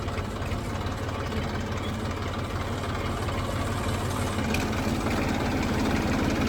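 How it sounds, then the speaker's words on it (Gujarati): A tractor engine idles steadily with a low, rumbling chug, constant and fairly close, with no voices over it. "ટ્રેક્ટર જો ફસાય ના તો સારું હો"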